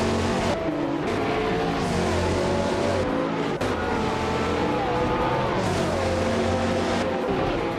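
AI-driven cars, including a vintage hypercar, race in a video game with constant layered engine roar and shifting revs. Tire squeals and cars sweeping past come through steadily, with no voices.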